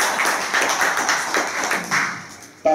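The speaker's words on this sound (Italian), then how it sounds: "possiamo fare un applauso" Applause at the founding meeting of the Radicali Calabria association, just after the statute is approved unanimously: a room of people clapping steadily and closely together, then stopping with a sharp thump at the end.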